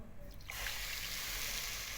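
A cup of water pours steadily into a pan with sugar, a broad rushing hiss, starting abruptly after a short quiet moment and continuing to the end.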